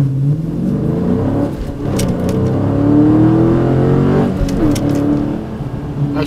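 A 2018 Dodge Challenger Scat Pack in a 0-60 run in regular default drive mode, its engine droning loud and steady from inside the cabin as pitch climbs, dips at a shift, then climbs again.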